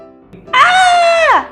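A woman's scream rises sharply and holds as one loud, sustained, tonal shriek for nearly a second before falling away, alone and close.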